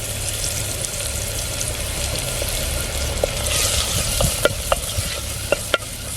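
Sliced onions with a little salt frying in oil in a pan, giving a steady soft sizzle with occasional sharp clicks and scrapes from stirring.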